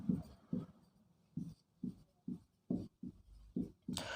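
Handwritten strokes during a Hindi-language class 10 physics lesson, likely on a board: a steady series of about nine short, distinct scratchy bursts in an even rhythm, close and fairly quiet, with no voice over them.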